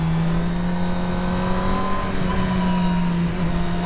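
A Suzuki GSXR750 motorcycle engine droning loud and close with a steady, sustained rev during wheelie practice, holding its pitch with slight wavering and no talk.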